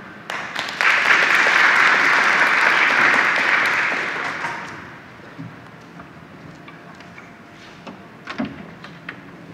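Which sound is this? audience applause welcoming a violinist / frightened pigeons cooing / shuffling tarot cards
audience applause welcoming a violinist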